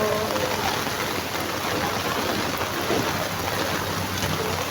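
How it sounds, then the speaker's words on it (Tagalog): Steady, dense rainfall hisses continuously during flooding in Valenzuela City, Manila, a broad wash of noise with no voices, holding the same heavy intensity throughout. "Ulan pa rin, patuloy ang ulan."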